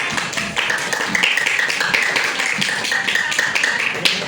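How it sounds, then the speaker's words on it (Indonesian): Students in a classroom clap together in a loud, close burst of brisk hand claps that keeps a fairly steady, slightly rhythmic patter for several seconds. "Iya, tepuk tangan."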